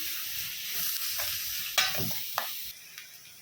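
Chopped onions fry in a pan with a steady broadband sizzle, broken by a few sharp scrapes and clinks as they are stirred, close and alone without talk.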